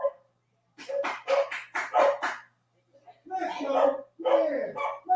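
A dog barks excitedly in a loud burst of several quick barks at a Cleveland Browns NFL touchdown broadcast, followed by people talking close by.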